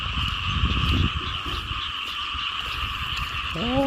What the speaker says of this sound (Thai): เขียดลายครับ